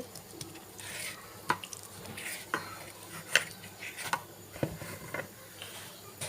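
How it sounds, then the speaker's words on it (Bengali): A spoon stirs a hot, thick dough mixture in a pot, giving irregular scraping and soft clinks against the metal, close and moderately loud, with quiet gaps between strokes. "আমি এতক্ষণ চামচ দিয়ে নাড়াচাড়া করছি"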